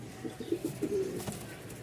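Soft cooing of a pair of Mondain pigeons repeats in a short rhythmic series against quiet background noise, moderately close but not loud.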